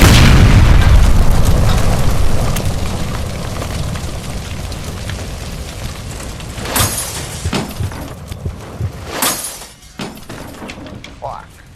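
A gas line by the stove blows up in L.A. Noire, a loud rumbling boom at the start fading into debris and sharp crackling bursts, with game voices talking over the aftermath.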